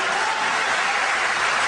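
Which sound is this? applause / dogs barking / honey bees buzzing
applause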